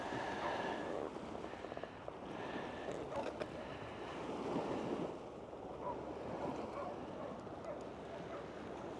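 Sea waves wash in at high tide at Saundersfoot, West Wales, a steady surf rush mixed with gusty wind buffeting the microphone.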